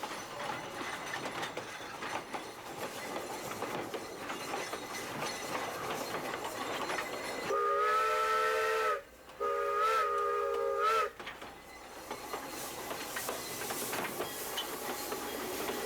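An old mining train rolls along in Cripple Creek, Colorado, its steady rumble and clatter punctuated by a loud multi-tone whistle blown twice in long blasts, close by.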